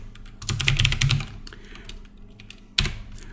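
Code being typed on a computer keyboard: a quick burst of rapid key clicks, then a pause and a couple of sharp final keystrokes, close and clear with no talking.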